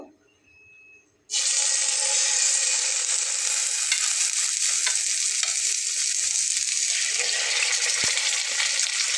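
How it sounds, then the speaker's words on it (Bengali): Fish pieces go one by one into hot soybean oil, and a loud, close sizzle bursts in after a quiet start, then crackles on steadily without letup. "তেলটা কিন্তু আমার গরম হয়ে গেছে এখন আমি মাছগুলোকে একে একে দিয়ে নেব"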